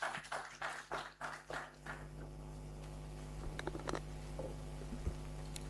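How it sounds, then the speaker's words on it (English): Applause for the chairperson at a human rights day commemoration in Kenya, a burst of clapping in the first two seconds that fades out, leaving quiet room tone with a few faint taps. "Please give her a warm round of applause, the chairperson."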